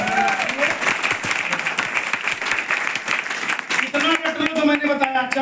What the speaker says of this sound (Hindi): तो बचाओ वेस्टीज के लिए ताली।